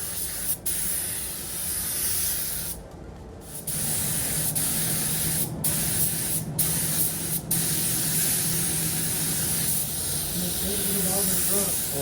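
A spray gun hisses steadily, applying adhesion promoter to the bumper of a wrecked 2023 Ford Ranger during painting, with a few short breaks between passes and faint talk in the background.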